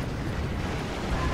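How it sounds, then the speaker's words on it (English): Fire bombers drop their bombs in the strategy game Steel Division 2, producing a loud, continuous explosive rumble that holds steady throughout the brief moment with no pause. "Let my fire bombers come in. Bombs away, bombs away,"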